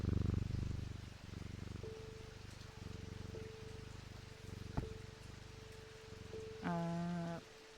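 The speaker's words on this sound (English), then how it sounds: "Pet the cat one more time." A purring cat in the video game Strange Antiquities, a soft steady rumble heard alone across the whole span, closing with brief tonal game chimes.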